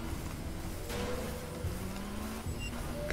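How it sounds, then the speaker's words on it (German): Vehicle engines in the video game Far Cry 2 drone steadily at a moderate distance, a continuous low rumble with slight rises as they draw closer, no talk. "Ich höre Motoren."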